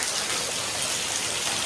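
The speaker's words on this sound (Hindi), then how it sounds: "आप देख सकते हो बारिश बहुत ज़्यादा तेज़ हो रही है" Heavy rain pours down in a dense, steady hiss with no breaks, loud and close throughout, with no voices.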